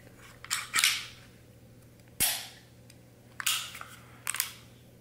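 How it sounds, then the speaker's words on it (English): An HK P7 pistol being squeezed, cocked and dry-fired: a few sharp metallic clicks and snaps spaced over several seconds, close and fairly quiet, with no talk. "So, gun is squeezed and cocked, trigger's pulled."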